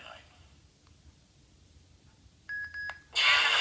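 A replica Obi-Wan lightsaber hilt sounds its button tones: a few short electronic beeps in quick succession, then a brighter, longer chime, all close and clear against quiet room noise.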